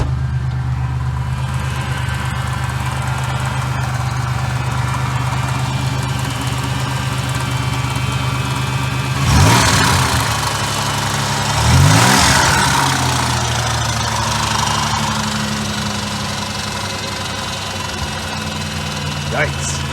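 A Cutlass Ciera wagon engine runs rough at idle with a steady low drone, and two loud rattling bursts break out partway through, as if something metal is shaking loose.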